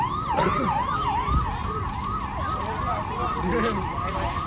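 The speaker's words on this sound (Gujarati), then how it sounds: "પોલીસની ગાડી આવી છે." A police car siren sweeps up and down repeatedly in a steady rhythm, loud and close, with traffic rumble underneath.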